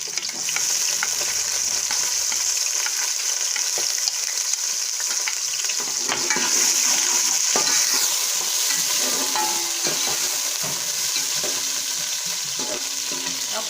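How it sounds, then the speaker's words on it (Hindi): Onions sizzle and crackle steadily in hot cooking oil for a potato curry, a dense continuous fry that grows busier partway through with occasional stirring clatter, close and loud with no talking. "अब हमारा कुकिंग ऑयल गर्म हो चुका है। अब इसमें हम प्याज शामिल करेंगे।"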